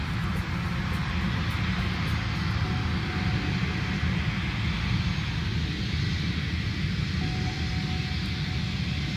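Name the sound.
large airplane flying overhead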